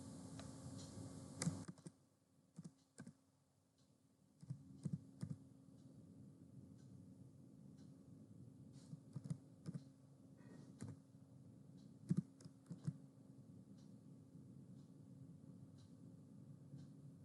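A password is typed on a computer keyboard as a quiet run of scattered key clicks in short irregular bursts over a faint hum, near and soft, with no talking.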